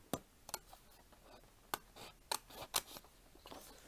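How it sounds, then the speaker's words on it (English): Scissors snip through a paper model part in several quick, sharp cuts, spaced irregularly with brief pauses between them, close and quiet with no talk. "I'm just going to quickly cut this off."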